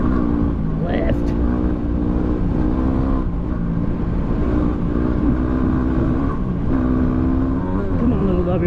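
A Yamaha WR250R dirt bike engine revs hard and steadily while sliding on a desert track, loud and close throughout with wind and vehicle noise, and speech is likely mixed in.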